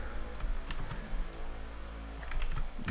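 Someone types on a computer keyboard, producing scattered, crisp key clicks in irregular bursts over a low, steady room hum, with a few louder taps toward the end.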